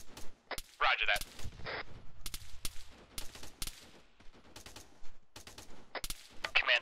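Scattered gunshots and short automatic bursts in the military game Arma 3, some sharp and near, others fainter, irregularly spaced through a tense firefight.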